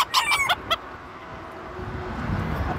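A blue-feathered, green-legged bantam broodcock clucks in a short, sharp burst of calls at the start, close and loud, followed by a quieter background hum.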